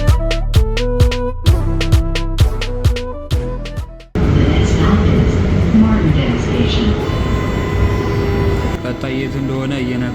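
A train in a rail system starts and pulls away: a few ringing melodic chime notes come first, then a loud, steady broadband rumble builds and rolls on as the train moves.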